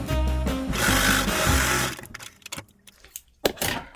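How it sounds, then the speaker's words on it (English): A sewing machine stitches through the fabric of a shopping bag in a dense, steady whir for about two seconds, then stops and gives way to scattered handling clicks and a few short bursts. "So I'm gonna stitch it here in the middle."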